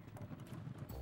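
Horse hooves clip-clopping in The Sims 3 game, a short burst of steady, close trotting beats over a low rumble, with no voices.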